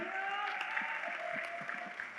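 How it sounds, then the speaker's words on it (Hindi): Audience applause greets a guest stepping onto the stage at a trading Q&A session, steady clapping from a crowd with a low background hum and a few distinct claps standing out. "भक्ते जी के लिए तालियां बजा दीजिए भाई"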